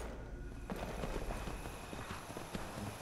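Horse hooves clip-clop in Skyrim near Dragon Bridge, a steady run of soft, fairly close hoofbeats over ambient game sound and background noise.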